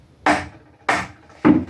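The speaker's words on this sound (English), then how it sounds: "I got my hammer. Even though it's clamped down, I can go ahead and tap it over" Three sharp, separate knocks of a hammer tapping a wooden board clamped down for cutting dadoes, evenly spaced and close, with quiet between strikes.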